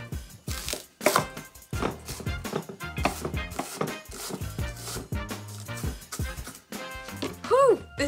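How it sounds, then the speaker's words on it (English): Close knife chops on a cutting board as an onion is cut, a quick irregular run of crisp taps, with a few short bursts near the end. "Meantime, I'm going to chop up onion."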